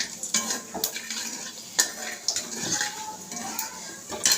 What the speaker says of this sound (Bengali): এর মধ্যে এই যে গোটা জিরে আর এই তেজপাতা, এটা ফোড়ন দিলাম